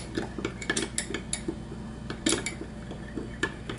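A spoon stirs salt into a mashed banana mixture in a small container, giving irregular light clinks and scrapes at close range, fairly quiet and with no voices.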